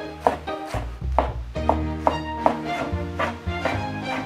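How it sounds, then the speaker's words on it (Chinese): A knife chops sweet potato leaves finely on a board, about a dozen sharp, fairly regular knocks close up with no talking. "番薯叶切一下，要切碎一点"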